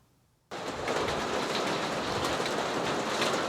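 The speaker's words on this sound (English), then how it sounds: "As you can tell by the racket on the old tin roof here, it's raining." After a brief near-silence, a dense, steady roar of rain hammering on an old tin roof starts abruptly and continues unbroken.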